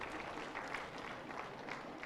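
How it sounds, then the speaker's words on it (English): Audience applause at a World Elephant Day award ceremony in Visakhapatnam, a continuous, moderately faint patter of many hands clapping at an even rhythm, with no voices standing out. "A big round of applause, please."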